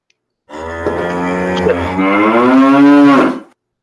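Recorded cow lets out a single long, loud moo lasting about three seconds, rising in pitch toward the end before cutting off into silence.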